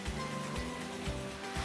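Water is poured into a pot of mutton korma, making a continuous, close, rushing splash with no one speaking.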